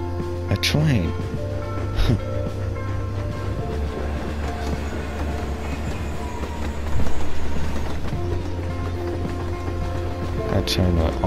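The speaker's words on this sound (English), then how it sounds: "That train would honestly be so loud in real life." A train passing in the video game Life Is Strange: Before the Storm, a continuous low rumble with rhythmic wheel clatter that swells midway, heard under someone talking.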